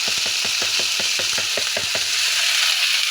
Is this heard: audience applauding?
no